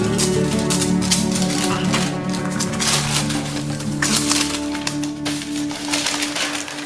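Scissors snip through packaging paper used for wrapping bath bombs, with rustling and crinkling as the paper is handled, close up over a steady low hum.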